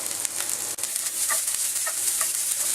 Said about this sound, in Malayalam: ഇനി അത് ആ എണ്ണയിൽ ഇട്ടിട്ടൊന്ന് നന്നായിട്ട് ഇഞ്ചിയും വെളുത്തുള്ളി ഒന്ന് മൂത്ത് വരണം